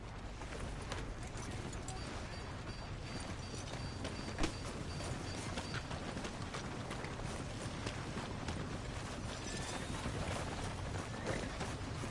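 Horse hooves clip-clop steadily in the Red Dead Redemption 2 video game, a quiet, continuous trotting rhythm with a faint crunchy ground texture, no voices.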